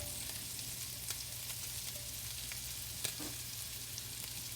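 Ginger and garlic frying in a pan, a steady dense sizzle with occasional faint pops and a light scrape, fairly quiet and continuous with no talking.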